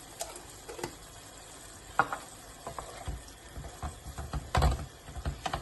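Octopus stew is stirred in a pan over heat, giving irregular scrapes, clinks and soft wet sloshes against a faint sizzle, close and moderately quiet.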